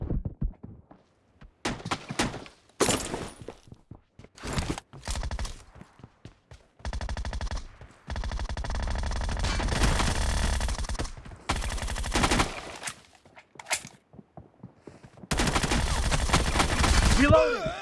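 Assault rifles fire in PUBG Mobile during a duo team deathmatch, with sharp single shots and bursts at first, then long sustained automatic volleys separated by short pauses.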